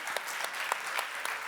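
An audience at an education forum's closing session claps steadily, with many hands at once. The applause is dense and even, with no voices on top.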